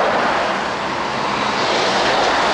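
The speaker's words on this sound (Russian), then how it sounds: "газу даю, а он на низких оборотах еле-еле-еле-еле что-то там, как будто сцепление проскальзывает" Scooter engine labouring at low revs under acceleration, a steady, loud, strained drone with a slipping-clutch feel that stays even throughout with no change in pitch.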